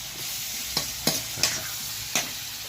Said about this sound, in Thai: พริกกับกระเทียม เอาให้กระเทียมหอมครับพริกสุกครับ